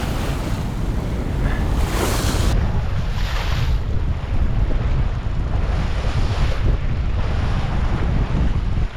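Wind roars and waves surge around a Cape Dory 28 sailboat on Chesapeake Bay, a loud continuous rush of buffeting wind noise and crashing water with no voices.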